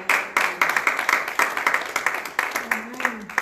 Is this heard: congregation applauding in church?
yes